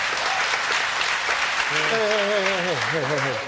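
Steady applause from a crowd fills the whole stretch, with a voice speaking over it near the end.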